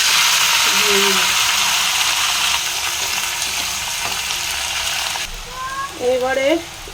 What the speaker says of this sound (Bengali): এবারে একটুখানি লবণ আর একটুখানি হলুদ দিয়ে ভালো করে এবারে টমেটোটাকে ভেজে নেব